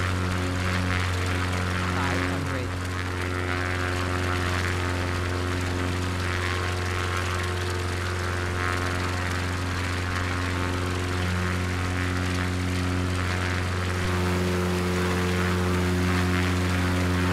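A propeller airplane engine in Microsoft Flight Simulator drones loudly and steadily, with strong low harmonic tones that shift slightly as the throttle is pushed up. A voice speaks over it.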